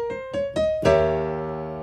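Piano playing a dominant seventh flat nine chord: a few notes struck one by one in quick succession, then the full chord sounding together and ringing out, close and alone.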